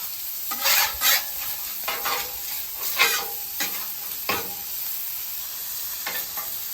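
Avocado oil sizzles on a hot griddle in brief bursts of crackling hiss, several short surges over about seven seconds, close and fairly loud with no talking.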